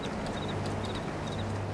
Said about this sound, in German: Guck mal, da wird hart gearbeitet und ich lasse es mir gut gehen auf meinem Pferdchen Gazzi.